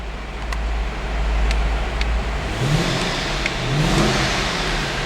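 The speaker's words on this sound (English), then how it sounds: "I'm going to rev the engine" A 2008 Dodge Challenger SRT8 coupe engine idles with a steady low rumble, then revs up twice in smooth rising surges before settling back, close and fairly loud.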